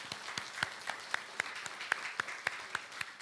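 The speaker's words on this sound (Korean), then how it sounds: "우리 성가대를 위해서 다시 한번 박수로." A church congregation claps for the choir in an even, rhythmic beat, soft and somewhat distant, about four claps per second with no talking.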